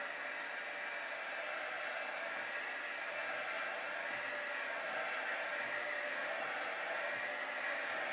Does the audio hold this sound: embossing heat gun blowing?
yes